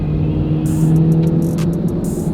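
Supercharged, fully rebuilt GMC Sierra Denali pickup with a 6.2 V8 revving hard, a loud sustained engine drone with a high intermittent whine pulsing over it.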